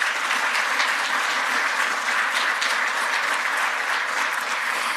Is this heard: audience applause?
yes